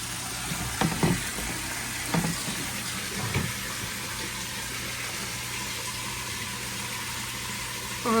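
Water flows steadily in an outdoor koi pond in winter cold, producing a continuous close splashing and trickling wash with a few slightly louder bursts and no voices.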